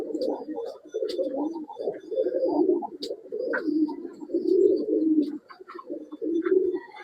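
A large male Chini pigeon, a breeding bird for sale in Bangalore, coos close and loud in continuous throaty rolls, with light chirps and ticks between.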